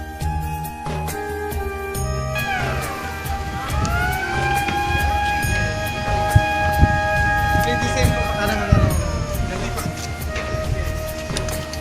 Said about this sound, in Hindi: आइए आपको सायरन सुनाते हैं और सायरन बजते ही किस तरह से ब्रिज उठेगा।